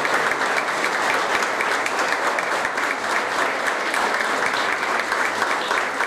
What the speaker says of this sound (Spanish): por eso les vamos a dar un fuerte aplauso